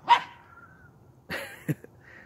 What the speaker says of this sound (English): The neighbor dog is now barking.